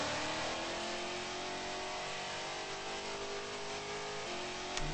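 A car engine in a racing video game revs and pulls through third gear, its tone rising steadily, played on a PC with an entry-level graphics card, a smooth continuous drone at moderate level with no talk.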